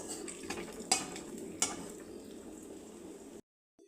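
Cloves, cinnamon and cardamom fry gently in a pan for a prawn malai curry, a soft low sizzle broken by two bright utensil clinks before the sound cuts out.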